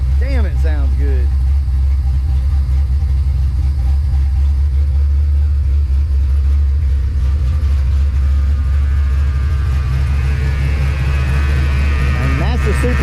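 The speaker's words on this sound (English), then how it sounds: "So this supercharger sounds like a power steering pump, like whine, kind of almost." A supercharged Ford Mustang Foxbody engine idles close by with a loud, steady low rumble and a faint high whine riding above it; brief voices can be heard near the start and again at the end.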